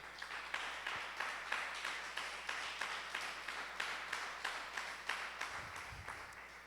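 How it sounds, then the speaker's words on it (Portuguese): A church congregation claps together in steady rhythmic applause that fills the room, moderately loud and continuous with no talking. "Vamos aplaudir Jesus bem forte"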